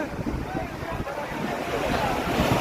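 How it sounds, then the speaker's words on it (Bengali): Strong wind gusts buffet the microphone on a cloudy beach at Digha during high tide, with the wash of sea waves beneath, a steady, loud roar that builds toward the end. "দারুণ হাওয়া দিচ্ছে"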